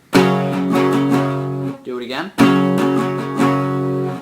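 Rhythm guitar strums the pre-chorus pattern of a song in a down, down, up, down, up rhythm, loud and close, broken briefly by a short spoken phrase before the strumming resumes.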